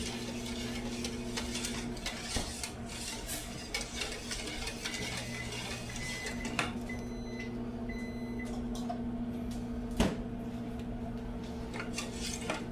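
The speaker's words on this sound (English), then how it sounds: "we're still stirring, but it's getting there" Coconut pie filling stirred in a pot on the stove, with soft utensil scrapes and occasional clinks against the metal over a steady kitchen hum, plus a sharp knock near the end.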